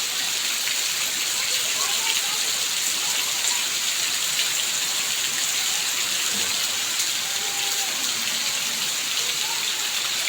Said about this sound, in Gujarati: ખૂબ વરસાદ પડી રહ્યો છે બનાસકાંઠામાં અત્યારે ભારે વરસાદ છે